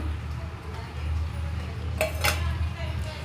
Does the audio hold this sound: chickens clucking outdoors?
no